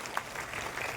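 An audience at a large Buddhist Dhamma conference claps briefly, a soft, distant patter of many hands that sounds even and sustained.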